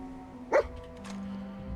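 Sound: dog barking, companion dog Dogmeat in video game Fallout 4

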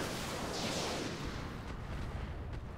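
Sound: mech weapons firing in video game RogueTech

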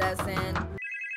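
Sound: telephone ringing in Minecraft video game

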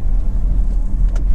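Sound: Honda CR-V 1.6 SR diesel car driving on road test

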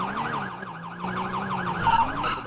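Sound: police car siren in video game GTA V

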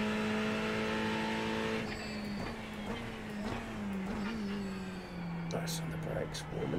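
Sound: Ferrari race car engine at Sebring in iRacing video game

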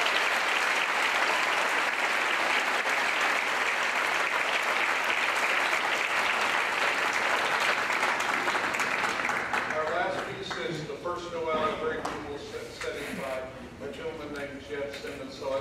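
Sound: audience applause for band students

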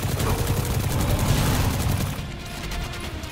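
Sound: gunfire in Destiny 2 video game

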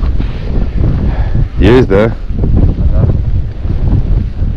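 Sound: strong wind on a frozen lake

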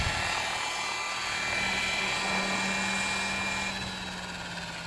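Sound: RC model helicopter engine running at high idle

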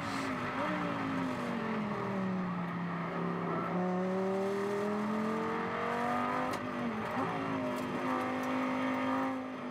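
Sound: Lamborghini Super Trofeo race car engine, onboard at Silverstone

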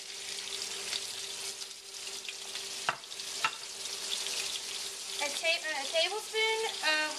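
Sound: shrimp sizzling in a pan

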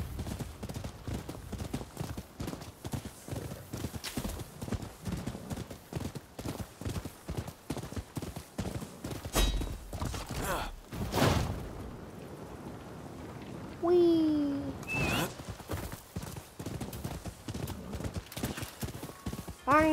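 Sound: horse hooves galloping in video game

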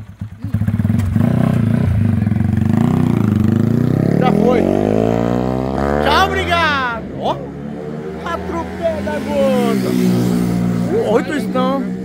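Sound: Yamaha R15 motorcycle engine revving on nitromethane

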